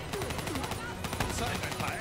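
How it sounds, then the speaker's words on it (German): Rapid burst-fire gunshots from a weapon in the video game Call of Duty Black Ops 3, cracking in quick clusters over a dense layer of game ambience for about two seconds. "So Burstfeuer, ich hasse das."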